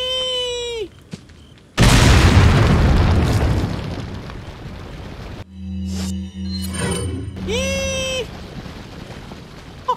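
Grenade explosion in Resident Evil 4 HD Project: a sudden, loud, roaring blast that slowly fades over several seconds, with shrill, cry-like calls heard before and after it.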